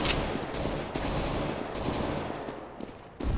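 Gunfire in Counter-Strike: Global Offensive, dense overlapping shots and bursts filling the whole stretch at moderate level with no talk over it.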